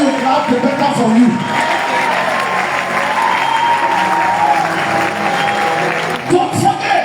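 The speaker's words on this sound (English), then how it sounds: "If you want to clap, clap." An audience at a business meeting claps steadily and continuously, a broad dense crowd applause filling the room with a few shouts mixed in.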